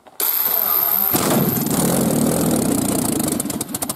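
Rolls-Royce Meteor engine cranks and fires after a short pause, then settles into a loud, rough, steady idle that carries on alone.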